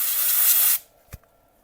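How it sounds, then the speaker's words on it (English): A can of compressed air held upside down blasts a short, loud spray onto a laptop circuit board to freeze it, stopping abruptly after under a second, followed by a single faint click. "the way you can freeze it is by taking this compressed air"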